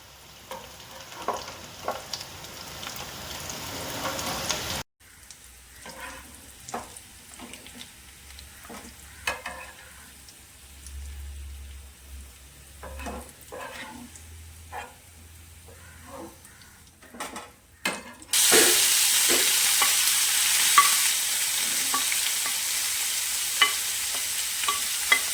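Bitter gourd frying in hot oil while a ladle stirs and scrapes the pan: continuous sizzle with intermittent metal clinks, growing into a loud, dense crackle near the end.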